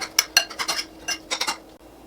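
A spoon clinks against a bowl while mayonnaise is stirred into a bread pizza topping, a quick series of light, close metallic taps and scrapes in a quiet kitchen.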